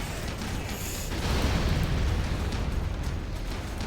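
Strategy center being destroyed by explosions in C&C Generals, a dense, continuous roar of blasts and rumbling that swells midway and stays loud throughout, with no talk.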